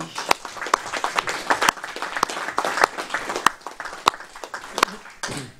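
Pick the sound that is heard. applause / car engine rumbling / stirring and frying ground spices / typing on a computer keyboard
applause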